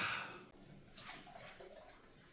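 Water in a bubble-filled bathtub during a soak, faint soft sloshing and small splashes, quiet and close with a few gentle movements.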